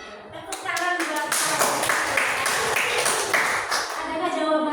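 A room full of people applauding, dense clapping that swells and holds for several seconds before tapering slightly.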